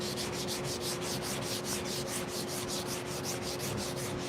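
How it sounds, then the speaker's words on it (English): Hand sanding on a massive wooden beam console table with worn-out sandpaper, a close, steady run of rhythmic back-and-forth scratchy strokes that continues without pause, with a faint constant hum underneath. "It kind of feels like this sandpaper is getting a little tired."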